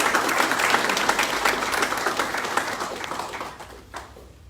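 Applause for a deputy director at a waste-management training course, a dense steady clapping crowd filling the room at a moderate level, thinning and fading toward the end.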